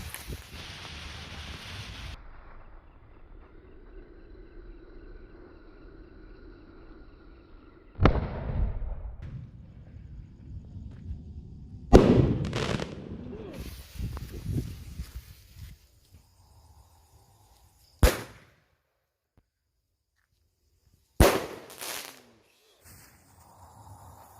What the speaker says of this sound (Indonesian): kali ini dia kita nyalakan berbagai petasan jumbo teman-teman